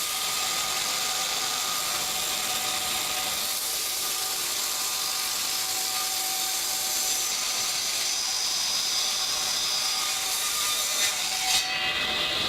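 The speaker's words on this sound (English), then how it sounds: "Ripped down the 2x4, 3/8 of an inch thick." A saw rips lengthwise through a 2x4 wooden board, a continuous close rasping that holds steady throughout with no talk.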